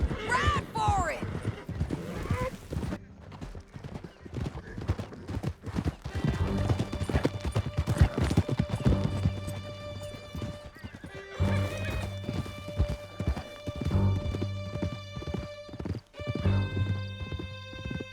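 Several horses gallop hard through a canyon in Red Dead Redemption 2, with steady, close hoofbeats, whinnies and neighs. Characters shout over the riding, and a musical score plays underneath.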